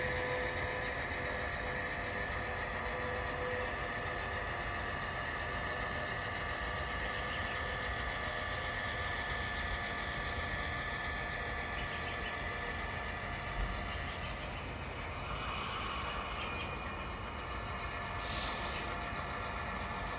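Diesel locomotive idling in a rail yard while shoving a cut of freight cars into a vacant track, a low steady rumble with a faint mechanical whine carrying on without pause and no voices.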